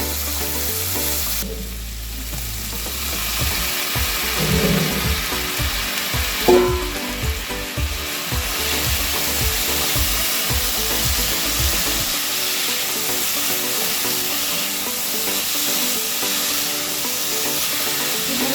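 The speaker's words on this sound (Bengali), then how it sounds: "মশলা দিয়ে লতিগুলোকে আমি বেশ ভাজা ভাজা করে নেবো কিছুক্ষণ।" Taro stolons frying in a pan with shrimp and spices, a steady loud sizzle with occasional stirring scrapes running throughout.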